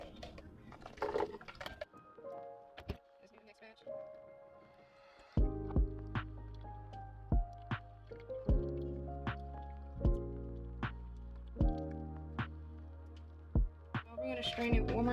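Green juice is poured through a strainer, with quiet, resonant drips and trickles falling into a container at a fairly regular pace and a soft splash near the start, all heard up close and faint.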